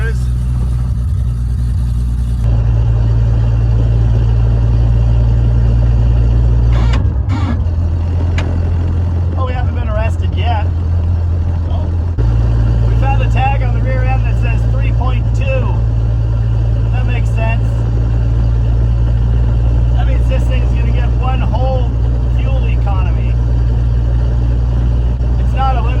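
A 1967 Plymouth Barracuda cruises in overdrive. Its engine gives a steady low drone with a brief change in pitch partway through, running beneath people talking inside the car the whole time.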